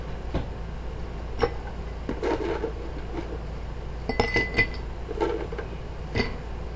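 Ice goes into a glass for a chocolate-milk-looking German Leg Spreader cocktail, sounding as a scattered series of sharp, close clinks and clatters at irregular intervals over a faint background hum.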